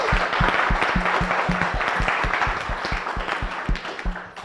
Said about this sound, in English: another very, very loud round of applause to everyone in the audience